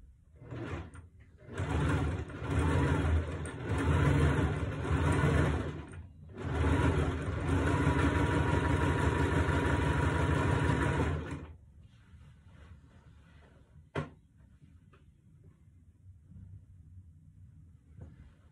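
A sewing machine runs a zigzag stitch joining two parts of a skirt, humming loudly in two long steady bursts before falling quiet, with a single knock afterwards.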